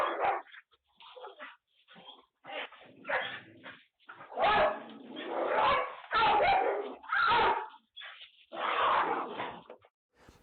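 A dog barks, yips and whimpers in repeated bursts during an off-leash attack, loud and close, with short gaps between the outbursts.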